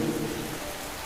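Steady heavy rain with a low thunder rumble beneath it, a brief continuous downpour from a stormy night in a Bengali cartoon horror story, with no voices.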